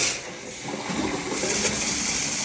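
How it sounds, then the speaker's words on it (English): A shower turns on after its valve handle is twisted, releasing a steady rushing spray of water that swells slightly and continues close and loud, with no talking. "water turns on as expected."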